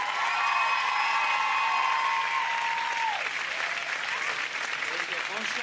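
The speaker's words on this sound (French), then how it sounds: "Applaudissez Robbie Williams encore" A crowd applauds Robbie Williams steadily and warmly throughout, with a brief sustained tone fading out beneath the clapping.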